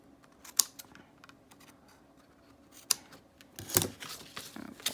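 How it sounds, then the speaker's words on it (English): Scissors snip to trim washi tape along an old book page pocket, a few sharp close cuts and clicks scattered over quiet crafting handling noise. "And then you're going to have to trim it."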